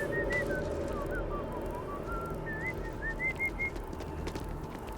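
A character in the video game Starfield whistles a short, wavering tune of rising and falling notes over a steady low background hum. The whistle is fairly faint and continues in broken phrases throughout.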